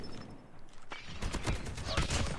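Gunfire in the video game COD Mobile, bursts of sharp rapid shots growing denser and louder in the second half, mixed with game effects.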